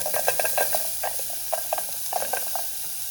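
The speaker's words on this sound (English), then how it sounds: "I'm going to throw in my onions as well as my mushrooms in there." Onions and mushrooms sizzling in avocado oil in a pan on a stove at medium heat, a steady close frying hiss with small crackling pops scattered throughout.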